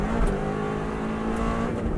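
Subaru Impreza rally car engine roaring steadily and close while downshifting from fourth to third gear through a left-right corner over pavement on a 2018 mountain climb, dense continuous drone with slight swells.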